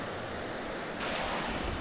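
Rushing water hisses steadily, swelling louder after a second, a close continuous wash of flowing stream with no voices.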